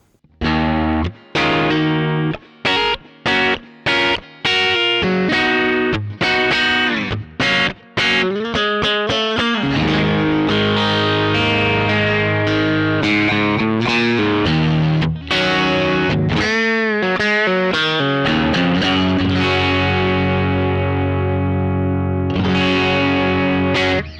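Squier Classic Vibe Thinline Telecaster played on its middle pickup with volume and tone full, through a distorted effects rig: choppy stabbed chords, then sustained ringing chords and single-note lines, loud and close with no talking.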